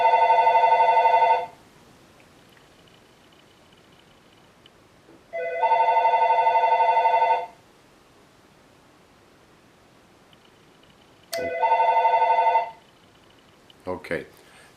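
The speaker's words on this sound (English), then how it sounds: "Sorry about the phone." A telephone ringing indoors with an electronic tone in three long bursts separated by pauses of several seconds, loud and close, followed by a brief clatter at the end.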